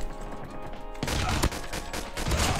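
Pistol shots in Call of Duty Mobile during the Guns Blazing mode: a few sharp, loud cracks after a quiet start, set among busy game effects.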